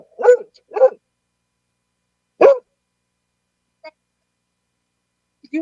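A dog gives a few sharp, close barks: two quick ones, a single louder bark, then faint yips, separated by silence.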